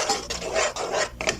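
A spoon scrapes and stirs a thick, creamy maja blanca mixture in a pot, with repeated close rasping strokes in an uneven rhythm and no voices.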